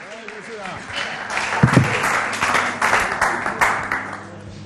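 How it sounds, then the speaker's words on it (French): Audience applause on a comedy talk show greeting a guest, irregular clapping that swells midway, with voices and crowd noise mixed in. "On applaudit très fort."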